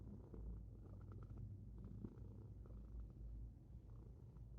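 A cat purring up close, a steady low rhythmic rumble that runs continuously and softly with no talking.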